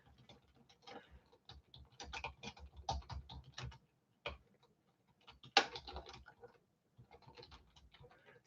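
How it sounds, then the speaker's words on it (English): Someone types in bursts on a computer keyboard, with quick clusters of soft key clicks up close separated by short pauses, in an otherwise quiet room. "I'm going to type it in again."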